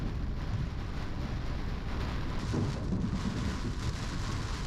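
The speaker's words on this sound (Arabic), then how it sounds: "مطر غزير ورياح شديدة." Heavy rain pours steadily during a storm on a road in Jazan, with strong wind and a dense, continuous rushing roar and low rumbling throughout.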